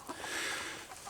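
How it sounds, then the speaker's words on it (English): A half Asil, half Shamo rooster gives a brief, close clucking call over steady background noise. "So the dad is Bojangles, my half Asil, half Shamo rooster, who has a great personality."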